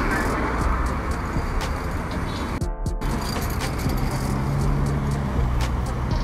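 Road traffic flows through a busy junction on the way into Georgetown, a continuous roar of cars and heavier vehicles passing close by, with a brief dropout partway through.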